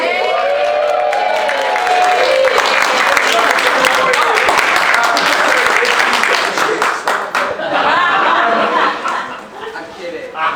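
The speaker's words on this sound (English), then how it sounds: "We should give a massive round of applause to our actual Aussie." Applause and cheering from a wedding crowd, with laughter mixed in, run loud and steady for most of the stretch and taper near the end, with voices heard through it.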